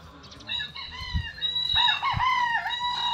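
Roosters and young stag gamecocks on a Filipino farm crow in long, loud overlapping calls, with clucking and a few low thumps underneath, close by and continuous.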